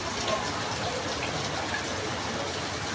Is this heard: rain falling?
yes